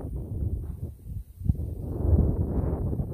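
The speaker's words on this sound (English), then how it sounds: "It's kind of windy. So I apologize for the wind noise in advance." Low, gusty wind buffeting a microphone outdoors at night, rumbling and swelling unevenly throughout with no clear voices.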